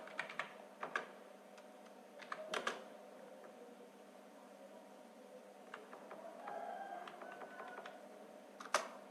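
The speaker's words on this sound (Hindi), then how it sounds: "फिर टाइप करते हैं हम लोग रोल नंबर" Computer keyboard typing in Notepad, with scattered key clicks, a few louder bursts and a steadier patter later on, fairly close and fairly quiet, with no talking.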